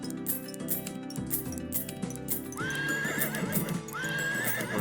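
Video game horse sound effects: galloping hoofbeats with two whinnies over music and clinking chimes, loud and upfront with no talking.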